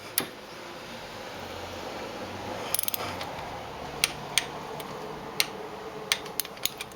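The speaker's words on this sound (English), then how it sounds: "Now the torque on that lower bolt is 9 foot-pounds. I've already reset my torque wrench to it." Torque wrench tightening the lower bolt on a Honda Shadow motorcycle's final drive: a quick cluster of ratchet clicks followed by sharp separate clicks spaced through a quiet workshop background.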